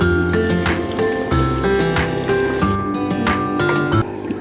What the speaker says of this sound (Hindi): अब इसमें हम इतना पानी शामिल करेंगे जिससे जो है चिकन हमारी गल जाए